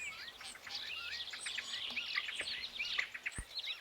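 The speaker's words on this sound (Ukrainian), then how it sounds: "Молодці, малята, це соловейко." Nightingale singing: a quick run of bright chirps, whistles and trills at a distance, faint overall over a quiet outdoor background.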